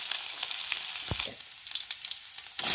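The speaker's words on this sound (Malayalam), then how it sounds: "ഇഞ്ചി വെളുത്തുള്ളി കരുവേപ്പില ഇവയെല്ലാം ഒന്ന് വഴറ്റിയെടുക്കാം" Ginger, garlic, curry leaves and mustard seeds fry in hot oil, giving a steady soft sizzle and crackle with a brief stir partway through. Heard close up and alone, with no talking.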